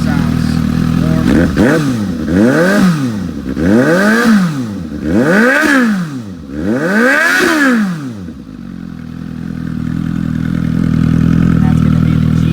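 A warm Suzuki GSX-S750 fitted with an Akrapovic GP Series exhaust barks loudly and close through four sharp throttle blips, then settles into a deep, rumbling idle.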